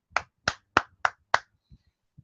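Five sharp hand claps in a steady rhythm during a lecture, close and loud, followed by two faint soft taps, no speech.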